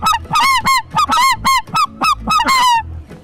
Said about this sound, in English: I'm fantastic on my new goose call.